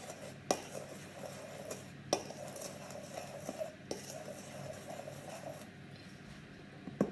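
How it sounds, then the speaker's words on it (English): Sugar and flour being mixed in a bowl for bread rolls: soft scraping and rustling, with a few sharp clinks of a utensil against the bowl at irregular intervals, close and quiet. "I'm going to mix these together"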